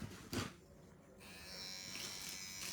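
An electric shaving trimmer buzzes steadily and close, its thin motor hum running after a brief knock, with no one talking.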